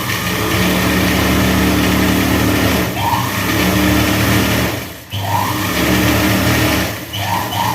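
Sewing machine stitching folded chudi fabric during a tailoring lesson, a loud, fast, continuous mechanical whir with a few brief pauses and restarts, heard up close with no talking.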